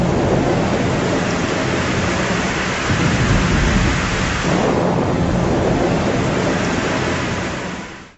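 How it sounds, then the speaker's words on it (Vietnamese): Thunderstorm with heavy rain pouring down steadily, a dense loud roar of rainfall with deep rumbling thunder swelling through the middle, continuous and close, fading out at the very end. "sao tự nhiên trời nổi sấm chớp mưa vậy?"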